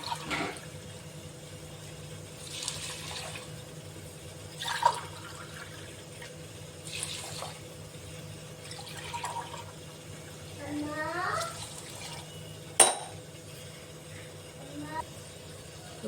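Water poured from a glass into a cooking pot of uncooked basmati rice in a home kitchen, a faint, steady splashing trickle in short bursts against a quiet room hum.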